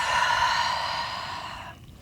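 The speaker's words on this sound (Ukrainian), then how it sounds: "Давайте зробимо ще один глибокий вдих і видих через рот." A deep exhale through the mouth during a morning vinyasa yoga session, a soft breathy rush lasting nearly two seconds, close and steady before fading out, with no talking.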